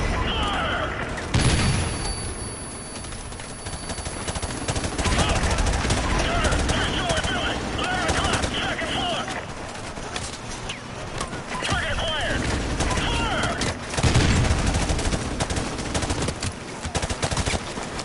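Call of Duty Modern Warfare gunfire: automatic weapon bursts and single shots crackle repeatedly in clusters with occasional booms, while people talk throughout over the shooting.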